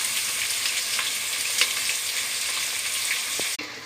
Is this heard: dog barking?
no